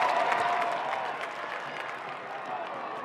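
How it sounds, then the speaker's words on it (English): Home crowd at a USL Championship soccer match applauding, a dense, steady wash of clapping and crowd noise filling the stadium, slightly fading toward the end. "That'll lead to a nice applause from the home crowd."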